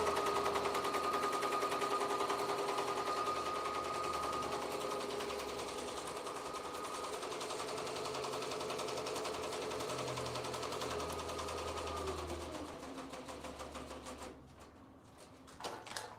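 A 3D puff embroidery machine stitches an outline pattern with a steady, rapid needle chatter and a mechanical hum that runs nearly the whole time and winds down near the end.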